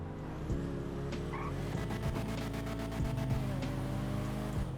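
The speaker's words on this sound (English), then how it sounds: "you do hear the rev limiter" A Banshee sports car in GTA 5 holds its engine against the rev limiter, a steady droning rasp with rapid stuttering pulses as the limiter cuts in, continuous and fairly quiet throughout.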